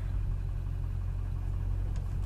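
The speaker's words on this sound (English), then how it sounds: "I got a car coming." A car or van drives past nearby on a residential street, a steady low engine rumble holding loud throughout with no talking.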